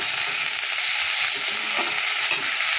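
Continuous close sizzling of cauliflower and potato frying in a pan, with light stirring clatters breaking through the steady hiss.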